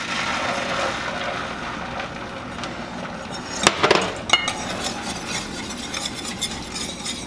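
Wassi's Orange Cranberry Relish stirred into a ham glaze in a pot, a steady wet scraping and stirring with a few sharp clinks of utensil against metal midway.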